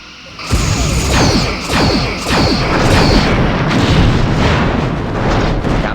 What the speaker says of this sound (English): Come on, give me some torpedoes